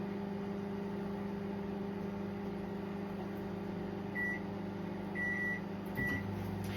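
A microwave oven runs while cooking chicken schnitzel and crispy potatoes in a Micro Pro Grill. Its steady, low electrical hum continues throughout, with a few short, faint beeps near the end.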